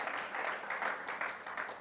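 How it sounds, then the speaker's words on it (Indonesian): Congregation clapping during a Sunday church worship service, a brief burst of fairly rhythmic group hand claps, moderately loud and close, with pulsing beats roughly four per second. "Yang setuju boleh kembali tepuk tangan bagi Tuhan Yesus."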